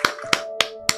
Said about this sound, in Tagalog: Isang malakas na palakpak pa nga po sa atin pong Panginoon